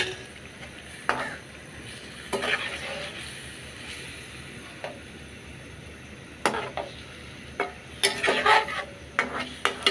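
Baim fish pieces go into a pan of cooked-down frying masala and get stirred, giving scattered scrapes and clacks of a utensil against the pan over a low background sizzle.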